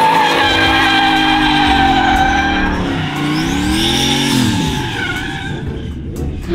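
A mini truck fitted with a swapped sportbike motorcycle engine drifts with its tires skidding, a loud, close, high-revving engine whine rising and falling over continuous squealing rubber, with no voices.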